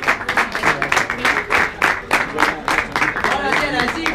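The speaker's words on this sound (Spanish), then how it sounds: "¡Aplauso, Mario!" Crowd applause at a Spanish-language freestyle rap battle final, a burst of rhythmic, fairly loud clapping with shouts and voices mixed through it.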